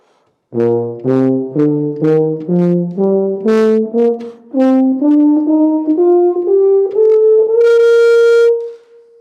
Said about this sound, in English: high notes are great on tuba because it can really cut through the ensemble